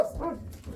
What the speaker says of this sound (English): Now the doggies are barking.